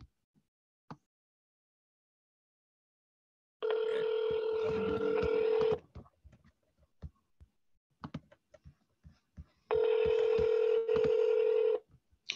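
An office phone call is placed: faint clicks and dialing, then two long loud ringback tones a few seconds apart, with scattered handling taps between them.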